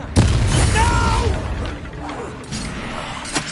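A Confringo spell blast in Hogwarts Legacy hits as a sharp, loud boom at the start, followed by a rumbling tail and scattered combat effects while a character speaks over it.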